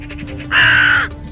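A crow gives one loud, harsh caw lasting about half a second. It is close and clear, set over a quieter, continuous outdoor background.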